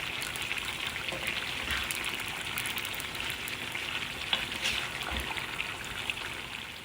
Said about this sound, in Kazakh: енді бәрін жақсылап араластырамын